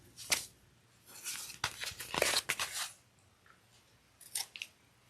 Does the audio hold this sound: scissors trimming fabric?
yes